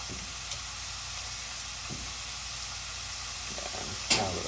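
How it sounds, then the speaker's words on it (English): Steak dropped into an oiled pan at medium heat gives a steady, moderate sizzle throughout, with a short, louder burst of spattering near the end. "now that our pan is thoroughly oiled up, we can throw in our steak."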